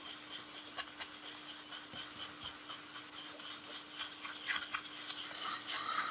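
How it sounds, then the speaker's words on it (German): Brisk rubbing strokes polish a scale model with polishing paste, a soft steady scrubbing hiss close up, repeating in quick back-and-forth passes with no voices. "Da wird jetzt poliert."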